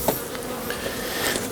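Honeybees swarming around an open hive as a nuc is moved into a bigger box at a first spring inspection, making a loud, steady, dense buzz close at hand that never lets up.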